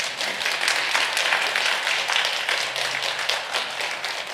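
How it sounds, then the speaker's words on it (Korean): A church congregation applauding during a Sunday sermon, dense, continuous clapping from many hands filling the room at a steady level, without speech. "하나님께 영광의 박수 한번 올려드립시다."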